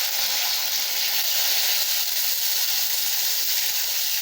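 Mustard, fenugreek and cumin seeds splutter and sizzle steadily in hot oil for a curry base, a dense, even crackling hiss that stays close and constant throughout.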